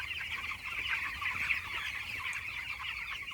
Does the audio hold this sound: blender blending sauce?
no